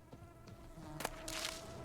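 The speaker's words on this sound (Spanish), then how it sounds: "No, no me hagas oír moscas." Flies in The Witcher 3: Blood and Wine buzz faintly in an uneven, wavering drone, with a couple of soft thumps and a brief rustle over quiet game ambience.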